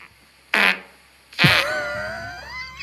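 Two wet, buzzy farts, a short one followed by a longer drawn-out one with a wavering, squeaky tail, close and loud with no talking.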